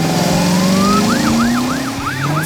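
Police car siren in a vehicle cartoon, wailing in repeated rising and falling sweeps over a steady engine-like drone, loud and close throughout with no talk.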